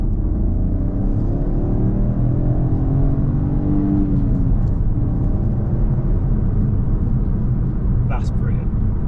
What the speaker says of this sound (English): the engine sound, which I hope you can hear